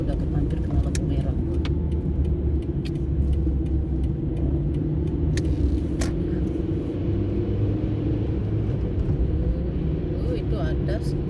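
A car drives through city traffic at night in autumn, with a low engine and road rumble running steadily underneath, while people talk over it inside the car.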